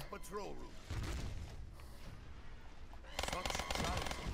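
Rapid gunfire from a zombies shooter video game, set on the Ascension map, rattles in dense bursts, loudest near the end, mixed with game effects while a person talks over it.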